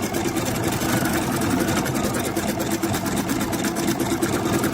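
A home embroidery machine stitching a flower design on a messenger bag gives a fast, steady mechanical whirring and clatter, close and continuous throughout, with no voices.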